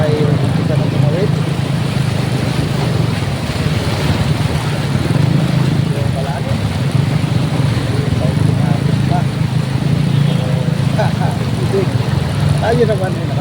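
A motorcycle engine running steadily as the rider crosses deep flood water on a city boulevard, a constant low drone with faint splashing beneath, continuous and close.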